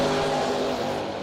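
Drag racing cars, an Oldsmobile and a Chevy II, heard as one loud continuous engine roar that dominates the brief moment, steady and close.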